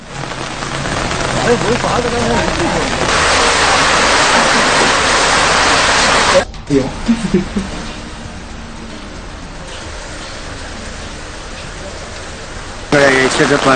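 Heavy monsoon rain pours in Sri Lanka's hill country near Dickoya and Bogawantalawa, a loud, steady close hiss that briefly drops away midway, then continues more softly before swelling again.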